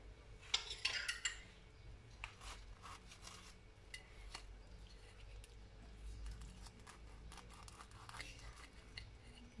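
A semolina harcha flatbread filled with cheese and olives is cut with cutlery, giving a few close scraping, crunchy clicks early on, then soft faint scrapes against a plate under quiet room noise.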